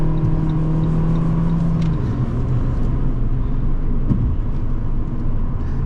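A 2012 Fiat 500 Sport automatic accelerates, heard from inside the car as a steady, loud engine drone and road rumble, with a low tone dropping away early on.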